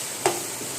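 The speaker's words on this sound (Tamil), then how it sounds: "நாங்கள் இப்போ தான் பூண்டு போட்டுருக்கோம்." Garlic, just added for biryani, sizzles and is stirred in a hot pan, with a brief louder scrape or hiss over a steady faint frying noise.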